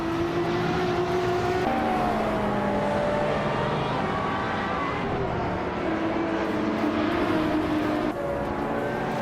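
A 2001 TVR Tuscan S race car engine in a racing video game drones steadily throughout, its pitch shifting with gear changes, mixed with other car engines.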